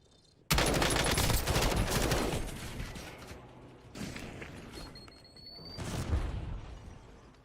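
Call of Duty gameplay fills with dense, loud rapid gunfire and heavy booming blasts from an airstrike, which crash in suddenly and then roll on and fade through several more bursts.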